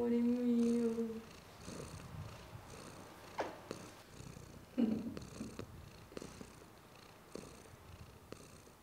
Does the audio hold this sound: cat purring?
yes